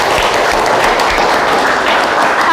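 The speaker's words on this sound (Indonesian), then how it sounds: "Silakan kasih aplaus dulu buat Tisha." Steady applause from a room of people, likely a class or discussion group, clapping for a participant named Tisha; dense continuous clapping held at an even level throughout.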